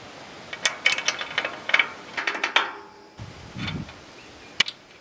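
A ratchet tightens a recycled 1/2-inch bolt on a trailer tongue from an old boat trailer, giving a close, rapid series of metallic clicking bursts with short pauses between strokes.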